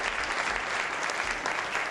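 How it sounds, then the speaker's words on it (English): A dense, steady burst of audience applause fills the room at a magic-themed talk, many hands clapping evenly without a break. "Round of applause for Pretty."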